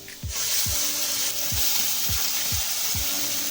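Ground flat-bean paste fries in a pan with a loud, steady sizzle, punctuated by about seven regular scraping strokes of a spatula stirring it.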